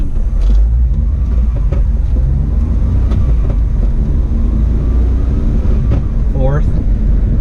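A 1994 Honda Acty mini truck pulls away in first gear from an intersection, its small engine droning with steady low rumble under road noise, heard from inside the cab.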